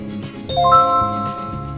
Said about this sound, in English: Let me know what you think of this bell.